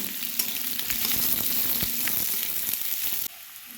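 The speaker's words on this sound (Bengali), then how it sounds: "সব পেঁয়াজগুলো দেওয়া আমার কমপ্লিট এবার এগুলো একটু ভালো করে ভেজে নেব" Onions frying in a pan, a dense, close, steady sizzle with a few small crackles and stirring sounds, dropping to a quieter hiss near the end, no voices.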